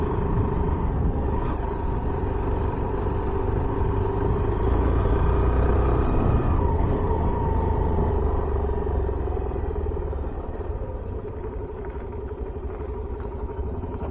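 A Hero Glamour motorcycle carrying a pillion passenger rumbles steadily along the road, its engine drone continuous and fairly loud, easing slightly toward the end.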